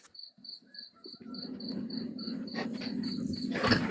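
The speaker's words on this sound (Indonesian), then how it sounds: "Itu suara jangkrik di mana sih?" Crickets chirp at a house in a regular pulsing rhythm, a close, clear trill repeating alone against a soft background hum that slowly builds.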